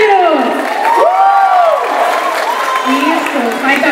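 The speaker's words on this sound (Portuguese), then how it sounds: "Uma salva de palmas para a Karina" Crowd applauding and cheering for a cosplayer dressed as Tanjiro at an outdoor cosplay parade, loud and sustained clapping with whoops, under an announcer's voice carrying over the noise.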